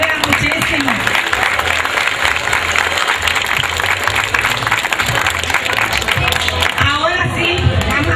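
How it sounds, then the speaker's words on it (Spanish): A live audience bursts into sustained applause at a community recognition event, dense clapping with cheering and crowd noise running loud and steady throughout, voices mixed in. "le voy a pedir a la gente que me le dé un aplauso"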